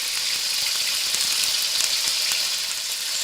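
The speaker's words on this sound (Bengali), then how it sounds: "একে একে নুন হলুদ মাখানো মাছগুলো ভাজতে দিয়ে দেব।" Snakehead fish pieces rubbed with salt and turmeric fry in hot oil in a kadai, giving a steady, dense, close sizzle that holds without a break and with no voices.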